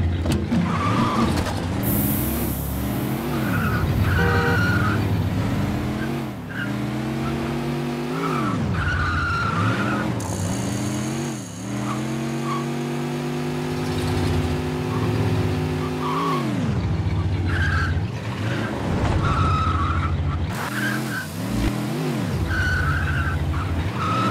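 In the video game Scarface: The World Is Yours, a car's engine roars and revs continuously while tires squeal and skid through repeated sliding turns, loud and close, with no talking.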